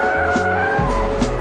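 BMW E39 M5 with stability control off drifting, rear-drive tires squealing loudly and steadily over a droning engine, close by, no talk.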